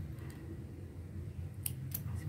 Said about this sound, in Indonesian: Seperti ini ya, kita gunting.